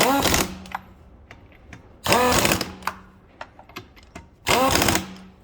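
A 19 mm socket on a power tool spins lug nuts onto a 2012 Dodge Journey wheel, three loud buzzing bursts of about half a second each, separated by quieter clicks and handling sounds, with someone talking in between.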